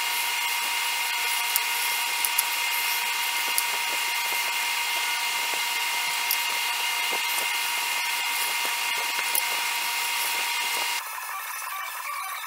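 Steady, loud, high-pitched grinding as bevels are ground on a forged Civil War style D-guard Bowie knife, running continuously for several seconds before dropping to a quieter, lower whine near the end.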